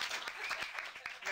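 An audience at a magician's rope trick performance claps in a short, moderately loud round of applause, with individual claps audible and some voices mixed underneath.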